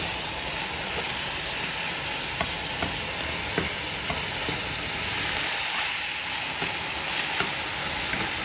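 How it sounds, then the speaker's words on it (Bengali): Sliced mushrooms fry in a hot pan, giving a steady close sizzle with occasional soft stirring clicks and no voices. "মাশরুমটা দিয়েও ভালোভাবে ভেজে নেব"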